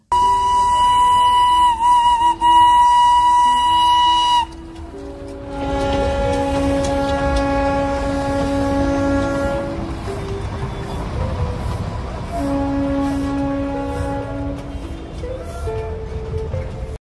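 The Darjeeling toy train sounds a long, sustained whistle at the Batasia Loop, then clatters along with squealing, tonal wheel noise as it keeps running nearby.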